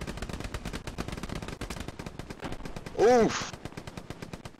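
Sustained rapid gunfire in a World War II video game with an M1 rifle, steady loud bursts throughout, with a short vocal grunt and brief electronic warble partway through.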